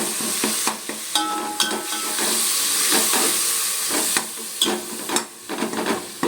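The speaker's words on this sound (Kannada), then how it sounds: "ಇದನ್ನು ಸ್ಮ್ಯಾಶ್ ಆಗೋ ಥರ ಫ್ರೈ ಮಾಡ್ಕೊಳ್ಳಿ" Onion and tomato fry and get mashed in a hot pan for Mangalore cucumber sambar, giving bursts of sizzling hiss broken by repeated scraping and stirring strokes, close and moderately loud.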